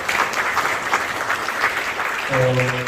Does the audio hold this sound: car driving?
no